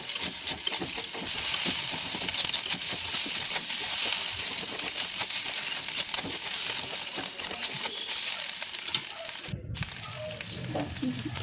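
Chopped banana stem frying in a pan, a continuous loud sizzle with the clatter of stirring throughout and a brief pause near the end, no voice heard.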